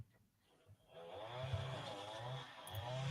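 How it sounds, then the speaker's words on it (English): A lawnmower runs outside, its steady droning engine rising out of near quiet and holding on, moderately loud and somewhat distant, with no talk over it. "Oh, there's a lawnmower again."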